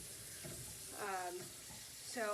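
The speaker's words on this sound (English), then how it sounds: "at this point I like to turn the water on and get it hot" A kitchen water tap runs, a soft hiss of flowing water with a couple of brief squeaky tones as the faucet is turned, fairly quiet and close.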